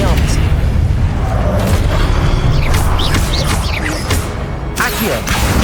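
Expelliarmus and other spells are cast during a fight in Hogwarts Legacy, with heavy booming magic impacts and crashes over a dense, loud battle din. A voice shouts during the action.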